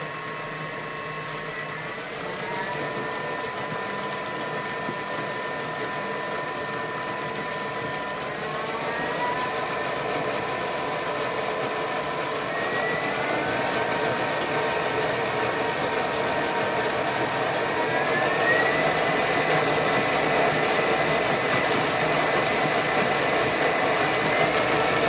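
A food processor blending vegetable bouillon paste runs steadily and loudly throughout, its motor whine stepping up in pitch several times as the speed is raised toward setting 7, with no talking.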